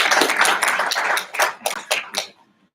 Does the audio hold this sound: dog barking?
no